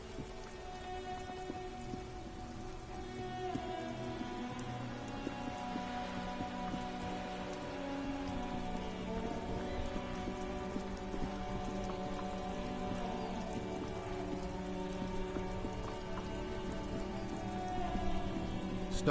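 Steady rain falls in the game Disco Elysium, a soft, continuous patter of drops on surfaces with a low hum underneath, holding evenly and swelling slightly toward the end, with no voices.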